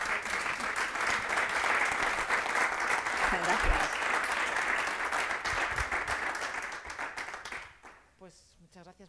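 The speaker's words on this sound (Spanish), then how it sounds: "primero un aplauso para ti" An audience at a seminar on the rehabilitation of the Beti Jai fronton applauding, sustained dense clapping that fades out, followed by a voice speaking.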